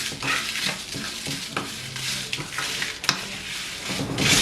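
Ingredients for chicken puli kulambu fry in a pan over moderate heat, a close steady sizzle broken by scraping, knocks and clinks of the spoon against the pan as it is stirred.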